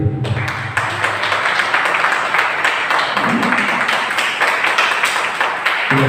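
Clapping from a crowd at a club convention gathering, dense and steady for several seconds, fairly loud and close.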